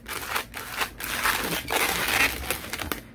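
Rubbery squeaks and crinkly rubbing as balloons are twisted together into a balloon dog, close up, in short bursts with brief pauses.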